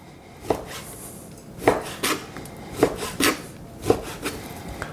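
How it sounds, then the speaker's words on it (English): A knife chops pork into small pieces on a board, giving about eight distinct, fairly loud knocks and scrapes at an irregular pace. There is no talking. "all you want to do is cut the pork up in small pieces"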